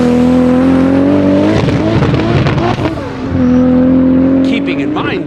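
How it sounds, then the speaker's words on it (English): A Toyota 2JZ straight-six engine drones loudly and steadily nearby, then revs up sharply in the middle before settling back to a smooth, even hum. "a look back at the 2JZ, yesterday's world's greatest straight six, together with today's"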